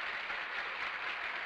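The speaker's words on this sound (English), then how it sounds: "Round of applause." Faint, steady applause from a small group fills the moment, a continuous soft patter of clapping without speech.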